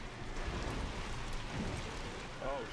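Steady rain in a video game hisses evenly in the background, a soft continuous wash with faint wind and a voice murmuring quietly under it.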